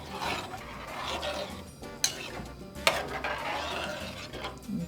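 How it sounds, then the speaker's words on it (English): Puerto Rican arroz con gandules is mixed in a pot, with a steady scraping, rasping stir broken by two sharp metallic clinks of the utensil against the pot. "now we're going to be mixing this all together"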